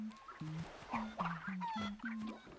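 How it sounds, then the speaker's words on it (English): Cartoon chickens in the video game Crash Twinsanity cluck in a steady run of short, squawky, bouncing calls, close and moderately loud over light game background sound. "Come on, chickens, you know you want to go into those nitros."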